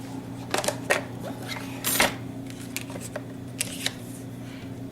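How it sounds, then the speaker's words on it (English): Card stock being trimmed with a paper trimmer for a handmade card, with several short cutting and sliding snaps in an uneven rhythm over a steady background hum. "I am going to trim this edge off a bit."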